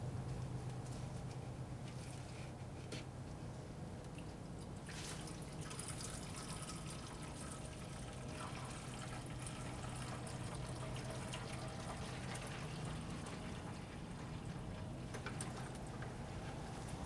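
Coolant pours and trickles steadily into the overflow reservoir of a Honda during a cooling system service, a continuous soft liquid flow heard close up with no talking.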